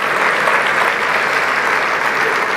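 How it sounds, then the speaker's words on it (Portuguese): Audience applause fills the room at a sermon, steady and dense clapping from a large crowd throughout, loud and close with no break. "vamos dar uma salva de palmas, porque esse povo é vencedor"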